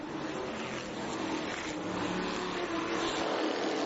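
Street stock race cars take the green at Boomtown Speedway, their engines a continuous distant roar that builds slightly as the pack gets underway, with no voices heard.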